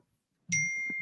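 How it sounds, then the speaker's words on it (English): A phone notification gives a single bright ding that rings on as a sustained tone, with faint low murmuring beneath it. "I heard that. Ding."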